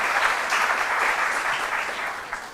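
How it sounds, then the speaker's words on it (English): Steady applause fills a school quiz contest hall for the Wesley Girls and Wallah's Academy teams, a dense even clatter of many hands at moderate loudness that tapers slightly toward the end. "A round of applause for them."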